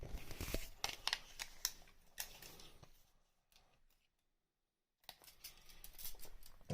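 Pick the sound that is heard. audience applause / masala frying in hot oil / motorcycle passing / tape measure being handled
tape measure being handled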